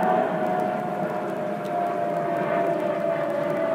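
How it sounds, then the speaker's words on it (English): Airplane passing over a quiet garden, a steady broad engine drone with a sustained tonal hum, moderately loud and constant for several seconds, without anyone speaking. "Oh, here comes a plane."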